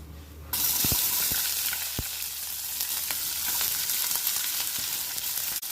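Mustard seeds, cumin, broken dried red chillies and chopped onion frying in hot oil start a loud, continuous sizzle after a quiet moment, with a few sharp pops and spatula taps on the pan.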